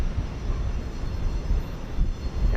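A KLM heavy jet airliner lands at Houston Intercontinental, a steady, rumbling engine roar at moderate distance that holds for the whole stretch with no voices over it.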